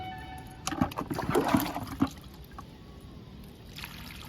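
Water is poured into a tub of compost made from dried leaves and kitchen waste in soil, a splashy gush for over a second that thins to a faint trickle and fades out.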